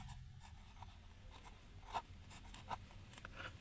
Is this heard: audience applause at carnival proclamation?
no